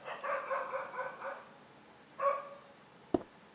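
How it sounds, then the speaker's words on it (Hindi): Dogs bark in the distance, first a quick cluster of barks, then a single bark, followed by a sharp click. "आज हम माइनक्राफ्ट की वीडियो रिकॉर्ड कर रहा हूँ जब भी कुत्ते भौंक रहे हैं।"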